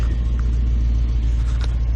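A parked Ford Ranger pickup truck idles in the background, giving off a steady, low engine rumble that stays even and unbroken throughout.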